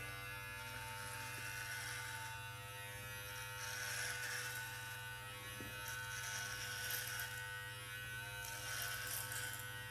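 An electric beard trimmer set to a 12 millimeter guard cuts through beard hair with a steady, close electric buzz, the motor's hum unbroken and the cutting texture swelling slightly now and then, with no talking.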